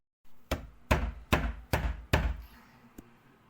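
Five heavy knocks on a door in quick succession, then a single lighter knock after a short pause, each sharp and close with a short ringing decay.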